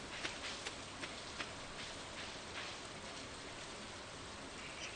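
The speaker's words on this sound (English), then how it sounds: "I guess she doesn't come out in the rain" Rain falling in Stardew Valley: a steady, soft hiss of rainfall with faint scattered drop ticks, quiet and even throughout with no voices.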